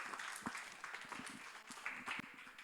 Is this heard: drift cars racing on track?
no